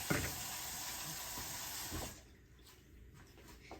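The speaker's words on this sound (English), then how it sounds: "you guys probably can't even hear me with that damn water running" A kitchen tap runs steadily with a broad hissing rush while dinner is being prepared, then shuts off abruptly about halfway through, leaving faint room noise.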